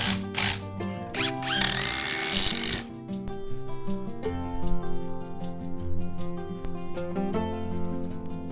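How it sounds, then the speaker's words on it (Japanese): A power driver whirs in short close bursts, the strongest lasting about a second, as long screws press three hand-cut local pine boards together for a five-step winding staircase. A steady tonal background continues underneath. "長めのビスによって圧をかけて3枚の板をひっつけていきます"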